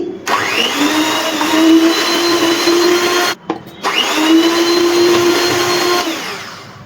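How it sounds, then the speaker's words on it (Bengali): An electric beater whips condensed milk and cream, a loud steady motor whine running continuously, cutting off briefly midway before starting up again at full speed. "আবারও আমি ইলেকট্রিক বিটার দিয়ে একটুখানি বিট করে নিচ্ছি।"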